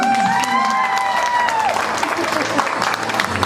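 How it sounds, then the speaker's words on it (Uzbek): An audience applauds a couple at a live event, with dense steady clapping and some crowd noise running throughout, while a host's voice speaks over the first part. "Qarsaklar kuchiga qarab o'rin belgilaymiz."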